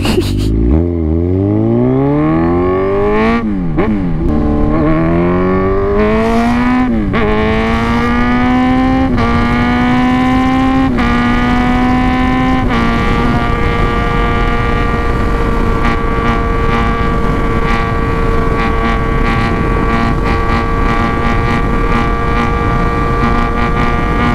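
A Kawasaki Z1000R motorcycle fitted with a titanium muffler accelerates hard through rising gears on an expressway, its loud engine note climbing in pitch with each shift and then settling into a steady high-speed drone. No one speaks.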